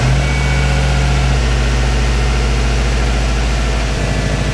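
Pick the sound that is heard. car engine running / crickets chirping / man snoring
car engine running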